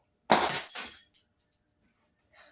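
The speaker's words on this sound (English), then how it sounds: "Even the file shatters too." A metal file shatters while smashing a plastic foot shaver on carpet, one loud sharp breaking crash with a short trailing clatter, then a few small faint tinkles of falling pieces.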